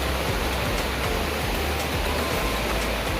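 Floodwater from a river swollen by the returning monsoon rains rushes past a ghat in a steady, dense roar, loud and close with no break.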